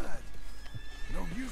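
A wild Tobiano American Paint horse in Red Dead Redemption 2 whinnies briefly, with hoof clip-clops and someone talking over it.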